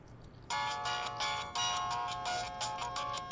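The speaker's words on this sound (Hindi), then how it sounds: "डेरिन का फोन है।" A phone ringtone starts after a brief pause and repeats in pulsing bursts, loud and steady, with no talking over it.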